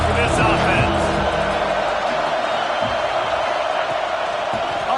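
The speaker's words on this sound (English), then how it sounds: "This crowd trying to make life miserable for this offense." Steady roar of a stadium crowd in a college football video game against Tennessee, a continuous loud wash of noise with a play-by-play voice talking over it.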